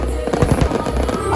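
Fireworks over the Manila City Hall clock tower at a New Year countdown crackle and pop in quick irregular bursts, several bangs close together over a steady crowd-and-city rumble.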